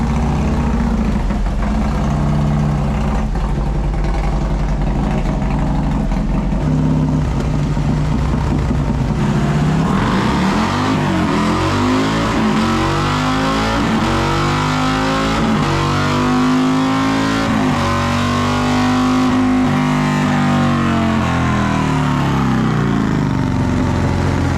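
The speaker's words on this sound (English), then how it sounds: "we'll see what kind of power this S&S 124 crate engine is making" Harley-Davidson fitted with an S&S 124 crate engine running on a dyno, loud and close, revving up through a long, rising pull before easing off, with no talking over it.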